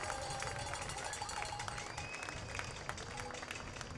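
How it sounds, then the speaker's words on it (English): A crowd at an Alaska Goldpanners baseball game gives a round of applause for the team's GM, heard as a faint, distant, steady wash of clapping and crowd noise. "one last round of applause for our GM, John"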